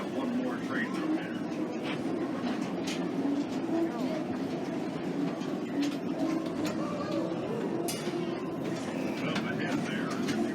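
A mine train roller coaster rolling along its track, a steady rumbling clatter of wheels with scattered clanks and squeals, moderately near, under faint background voices and birds.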